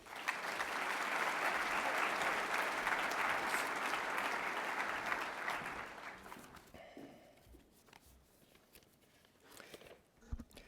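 A ceremony audience gives loud, sustained applause for Dr. Holland coming to the stage at a medical school white coat ceremony, fading after about six seconds into scattered claps and room noise.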